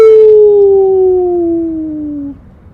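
A single wolf howl rises clear and loud, a long sustained tone that slowly slides downward for over two seconds before breaking off into quiet.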